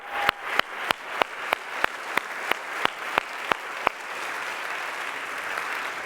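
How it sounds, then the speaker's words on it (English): An audience at a refugee award ceremony gives a round of applause for a performer: a dozen sharp, evenly spaced claps that give way to a softer, continuous wash of clapping. "Please, one more round of applause for Ahmed as he opened up tonight."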